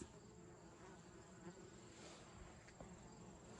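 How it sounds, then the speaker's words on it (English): Nursing bees buzzing around a feeder, a steady dense hum of many insects close by, continuous and fairly quiet with no talk. "there's all these bees right here"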